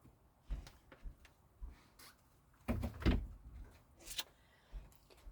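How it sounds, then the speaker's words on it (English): An indoor door is shut with a few soft handling knocks and then a louder thud, followed by faint clicks in a quiet room. "I better shut door case Paul's listening just a minute"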